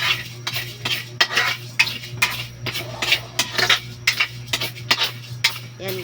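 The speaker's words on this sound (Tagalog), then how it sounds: "kumuha ako ng isang kaldero" A cooking pot is picked up and handled in a home kitchen, with repeated metallic clanks, scrapes and clinks of pots and utensils in an irregular rhythm, close and clear, with no talking.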